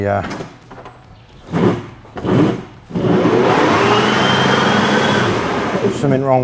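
Sinclair C5 small electric vehicle driving with a strong, steady motor whine from around three seconds onward, after a few brief thumps and bursts near the start, close and loud.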